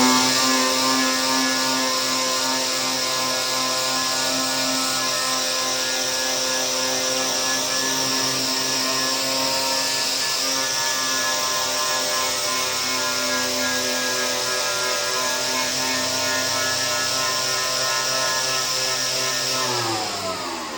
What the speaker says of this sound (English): what we want to do now is use these polishing pads in this section here